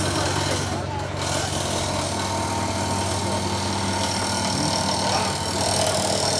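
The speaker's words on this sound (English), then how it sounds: "They over there drilling, y'all." A power drill runs on a car's exhaust at an outdoor car meet in Columbus, Ohio, a steady mechanical whir amid idling engines and crowd chatter.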